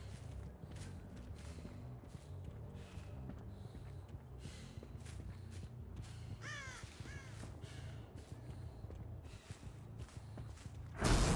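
A crow caws a few times in the middle of a Dead by Daylight match, set over a steady low game ambience with faint rustles, and a loud burst comes at the very end.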